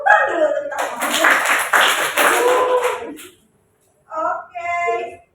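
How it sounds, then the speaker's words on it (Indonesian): Classroom applause from a primary-school science lesson rings out for about three seconds, dense and close, followed by a brief pause and then voices speaking. "Tepuk dulu untuk kita semua."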